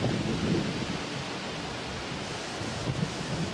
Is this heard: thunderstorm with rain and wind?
yes